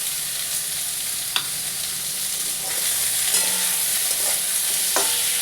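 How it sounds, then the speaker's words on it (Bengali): Chopped vegetables with tomato, ginger, turmeric, chilli, coriander and cumin powders and salt sizzle steadily in a pan for a fish curry, under a constant loud hiss with occasional scrapes and taps of a stirring spoon. "এটা দিয়ে একটু ভালো করে বন্ধুরা কষে তারপরে জল দেব"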